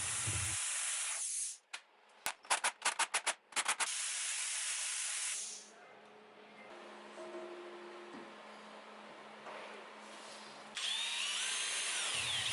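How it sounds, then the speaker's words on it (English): A power drill whirs in short repeated bursts, drilling mounting holes on a DIY cargo bike build, after a loud hissing spray, then a quieter motor hum drones on before another burst of noise. "Now I'm drilling mounting holes to screw it down."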